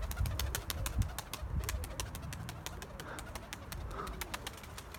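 Outdoor game pigeons (tumbler flying birds) coo and call steadily in cold weather. Busy low fluttering suggests birds settling onto a loft, with no talking.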